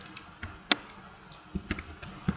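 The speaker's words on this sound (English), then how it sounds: "apologise for this clicking" A computer mouse clicks in a string of sharp, light taps at irregular intervals, quiet and close, with no voice during the clicks.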